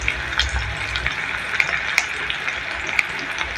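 Chopped garlic sizzles in hot oil for an egg dopeyaza curry, a steady crackling fry with sharper spits and pops scattered throughout.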